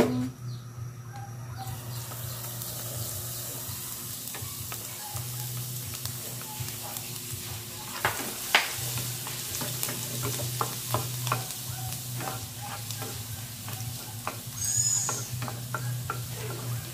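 Garlic fries in hot oil for a mustard-leaf omelette, a steady close sizzle with scattered crackles and spatula stirring, gaining a brief louder flare near the end, with a short spoken remark early on.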